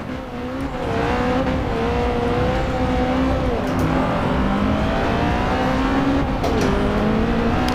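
A Toyota GT86 with wide arches in Forza Horizon 2 drives with a steady, loud engine drone that holds a constant pitch, rising slightly in places as it accelerates, with no talk over it.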